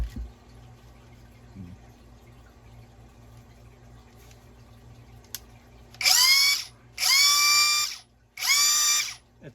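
A DOWOX 21V brushless impact driver with a 21 volt 2 amp-hour battery runs in three close, loud bursts, each revving up sharply with a whining wind-up before cutting off, after a quiet stretch.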